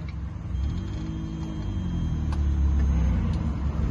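A car's engine rumbles steadily at close range and swells as the vehicle pulls away during a driving lesson, a continuous low drone with no talk over it.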